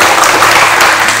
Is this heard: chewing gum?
no